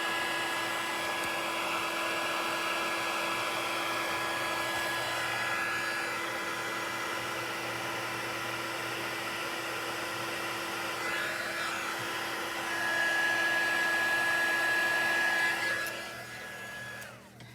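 Electric heat tool blowing hot air over embossing powder on a thank-you notecard, a steady whirring fan drone with a faint high whine, close and continuous, briefly louder before switching off at the end.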